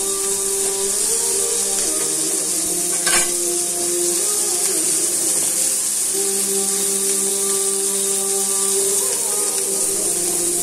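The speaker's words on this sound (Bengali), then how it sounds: "মশলা ভালো মতো কষিয়ে এবার আলু ঢেলে নাড়তে থাকি।" Potatoes tossed into a pan of well-cooked spice mix for a Bengali mixed vegetable fry, giving a loud, continuous sizzle with scraping stirs and one sharp clatter of a utensil, close up and steady throughout.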